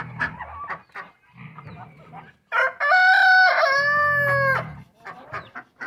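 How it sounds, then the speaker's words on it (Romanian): Two roosters at an animal yard; one crows loudly in a long drawn-out call, with softer clucking and farmyard bird noises before and after it. "Uitați acolo și aia doi cocoși."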